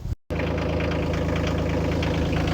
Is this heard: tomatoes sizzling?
no